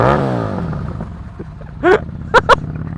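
Loud Ducati motorcycle engine revving close by on a ride through Cornwall, a steady rumbling drone with rising and falling pitch, broken by a few short sharp bursts near the end.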